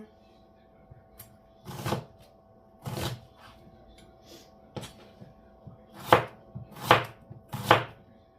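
A knife slices onion on a cutting board in a handful of crisp, close chops, spaced unevenly and then quickening into three near-regular strokes, with faint kitchen noise between.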